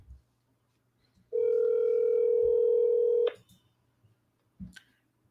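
A single long ringback-style tone sounds on a phone line calling a government mobile number, steady for about two seconds and fairly loud, with soft line clicks before and a brief blip after.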